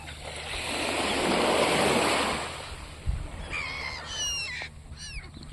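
Gulls squawk in sharp repeated calls over rolling seaside surf and wind, with a brief thump midway and the bird cries growing busier near the end.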